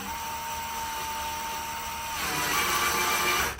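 A power driver runs steadily while tightening a fastener into a van wall panel, its whine rising in pitch and loudness near the end before cutting off, close and alone.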